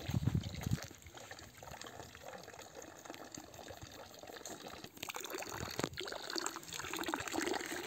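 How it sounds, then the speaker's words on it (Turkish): A roadside stone fountain built for wild animals, its water trickling and splashing steadily into a basin, soft and continuous, with faint outdoor ambience and no talk. "Buraya yapılmış bu çeşme."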